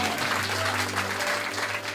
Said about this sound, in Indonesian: Tepuk tangan sekali lagi buat Tuhan.